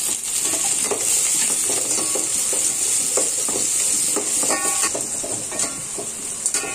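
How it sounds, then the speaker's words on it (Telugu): Carrot, capsicum, beans and potato stir-frying in oil for a spicy veg biryani. A loud, constant hiss of frying carries throughout, with quick spoon scrapes and light clinks against the pan up close. "క్యాప్సికమ్ బీన్స్ వేసి ఫ్రై చేసుకుంటూ ఉండాలి"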